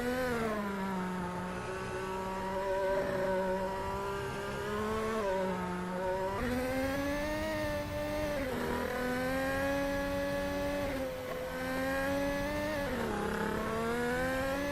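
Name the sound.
F1 race car engines from a racing video game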